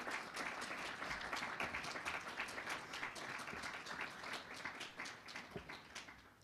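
An audience at a Southeast European dialogue event breaks into a sustained round of applause to welcome youth school participants, dense steady clapping from a large crowd filling the whole stretch and tapering slightly toward the end.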